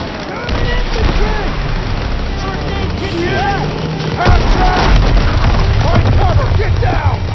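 A grenade blast booms in a Call of Duty WW2 campaign battle on PS4, the heavy low rumble surging amid constant gunfire, wind and shouted voices in a dense, loud combat mix.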